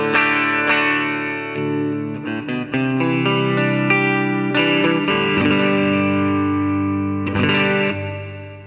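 A clean partscaster Strat guitar played through a Rocknroll Amps 46V6 Blues Senior amplifier with no effects, ringing chords and picked notes at a loud, steady level with a few quick choppy strums and sustained decays, no voices.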